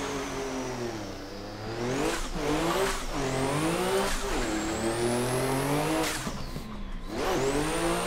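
A race car from the iTandem ESDA 2021 team revs hard through a driving run, engine pitch climbing and dropping in repeated sweeps with brief lifts between, loud and close with no talk.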